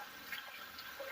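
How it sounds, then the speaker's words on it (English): Rainbow Falls, a good-sized waterfall on Tobago, gives a steady, even wash of falling water with no voices, constant and close throughout. "It's a nice size waterfall."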